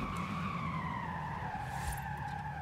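A Volkswagen Beetle braking hard in Forza Horizon 5, its tires squealing in one sustained, loud skid over the engine, with no talking.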